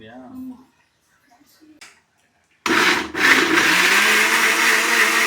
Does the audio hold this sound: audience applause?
no